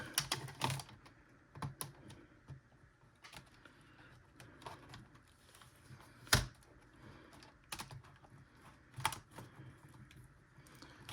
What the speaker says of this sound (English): put our keyboard back on